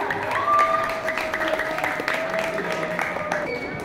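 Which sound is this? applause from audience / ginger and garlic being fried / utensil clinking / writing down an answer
applause from audience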